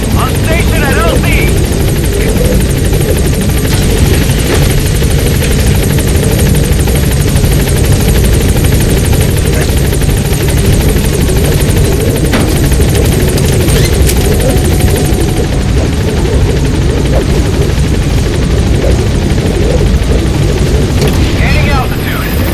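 The Pequod helicopter in Metal Gear Solid V arrives at a landing zone, its rotor roaring loud and constant throughout while a radio voice talks over it.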